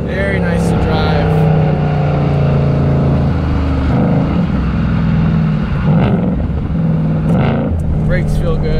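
A supercharged Ford Mustang GT with a Hennessey HPE800 upgrade pulls in third gear, its engine roaring in a steady, loud drone with a rising whine, heard from inside the car.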